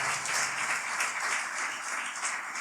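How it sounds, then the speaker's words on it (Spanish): A church congregation at a retreat applauding, a dense, steady wash of clapping from many hands that carries on for a few seconds. "Le damos un fuerte aplauso al Señor."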